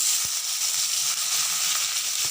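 Fennel seeds and onion fry in hot oil with a steady bright sizzle and one soft knock near the start, close by and with no talking.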